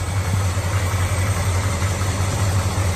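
A 1979 Chevrolet Camaro idles at a car show in Island Pond, Vermont, its engine giving a steady, close, deep rumbling hum with a smooth, even pulse and no revving.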